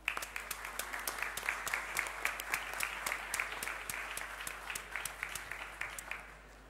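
A modest audience claps for drone team Skyborn at a DISC 2018 final-day event, the applause sparse enough that individual claps stand out steadily throughout.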